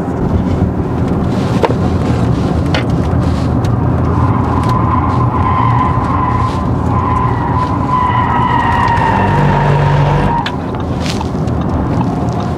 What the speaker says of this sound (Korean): 이 차가 일정 지 이상에서는 생각보다 속도도 높고 부드럽게 또 회전을 하는데